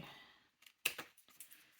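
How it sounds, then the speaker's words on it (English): Scissors cutting paper for junk journal crafts, a handful of crisp snips and rustles after a brief silence, close and fairly quiet, with a slight papery scrape between cuts. "You're supposed to turn the paper and not the scissors."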